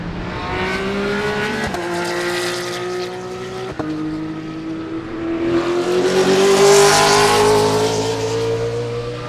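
Race cars speed past on the Sebring track during the Love Bug Dash, a Porsche among them, with loud engine notes climbing in pitch as they pass, one after another, with no voices.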